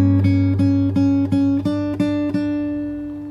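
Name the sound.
fingerstyle guitar playing the last bar of the chorus of a song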